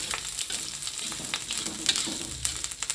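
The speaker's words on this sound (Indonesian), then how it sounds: "Tumis bumbunya lur." A ground spice paste is sautéed in a pan, giving a short stretch of close, even sizzling with a few sharper pops.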